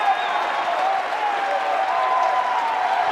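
Loud crowd cheering and roaring fills a college baseball stadium, Lindsey Nelson Stadium, during a Texas vs Tennessee game, a steady dense wall of noise with no break.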